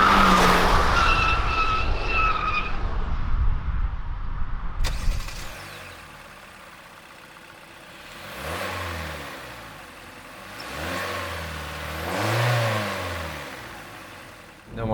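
2020 Hyundai Sonata midsize sedan with a 2-liter gasoline engine, heard from inside as it accelerates: loud road and engine noise at first, then a quieter cabin with the engine swelling and falling in slow waves.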